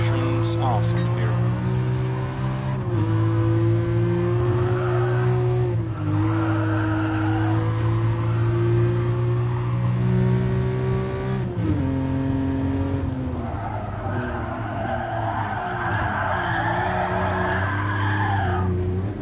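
A Ferrari Dino in Gran Turismo Sport slides sideways with long tire squeal over a loud, steady engine drone that shifts pitch through gear changes, while someone talks over it.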